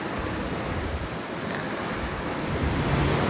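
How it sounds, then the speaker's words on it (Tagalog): Steady roar of rough surf mixed with gusting wind buffeting the microphone, loud and continuous with no pauses. "Malakas ang alon ngayon, malakas din ang hangin."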